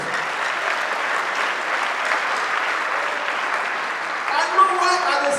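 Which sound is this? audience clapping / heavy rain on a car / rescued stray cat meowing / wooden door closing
audience clapping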